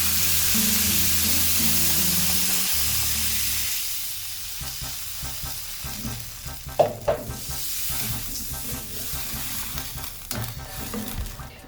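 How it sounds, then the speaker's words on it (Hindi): Water poured into a hot pan of frying mutton for a yakhni soup, with loud sizzling and stirring clatter that starts steady, then breaks into sharp bursts and spattering as the liquid hits the metal. "और यहाँ डालेंगे हम पानी"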